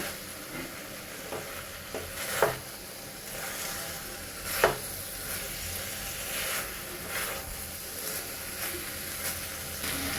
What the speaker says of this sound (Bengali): এটা আমি কষাই নিয়ে তারপরে ঝোল দিয়ে দিব।